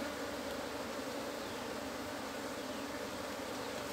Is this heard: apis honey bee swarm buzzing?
yes